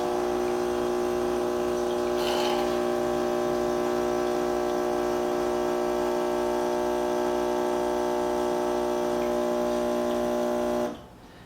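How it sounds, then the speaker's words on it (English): A Philips Saeco Poemia espresso machine pumps water through to flush its boiler, giving a steady, loud buzzing hum for about eleven seconds before cutting off abruptly near the end. "So I'm going to hit to brew just to flush the boiler out."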